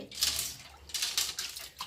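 Well water poured into a fish tank during cleaning, splashing in a few uneven bursts with short gaps, fairly close and moderately quiet.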